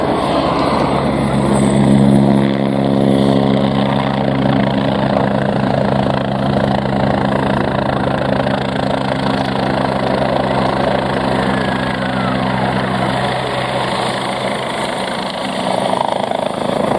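A Westland Wasp helicopter hovers at an airshow with a steady, loud rotor and turbine drone, a layered hum that holds close and constant throughout.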